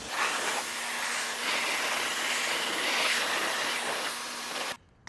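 A pressurized water spray rinses the wheel and tire of a BMW X7, a loud continuous broadband hiss with slight surges close by, lasting about five seconds before stopping abruptly.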